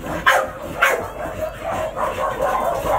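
Two male American Bully dogs, one chocolate and one brindle, let out a few loud, close barks and yips in quick succession over steady background noise.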